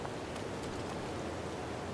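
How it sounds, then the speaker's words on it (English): Steady rain in Zelda: Breath of the Wild, a dense, even hiss of falling water that stays constant throughout at a soft level, with no voices. "it's raining over here"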